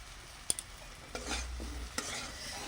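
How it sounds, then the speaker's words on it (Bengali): Kashmiri chilli, coriander and cumin powders stirred and fried in a pan for a fish and potato curry, a soft low sizzle broken by a few spoon scrapes and taps, quiet and close, no talk. "এই মশলাটাকে ভালো করে নেড়ে চেড়ে কষিয়ে নেব"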